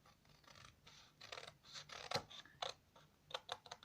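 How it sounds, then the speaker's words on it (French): Scissors snip through paper for a spring-themed pocket mini album, a series of quick, crisp close cuts and rustles in irregular rhythm, quiet and without talk. "Donc je prends ma paire de ciseaux"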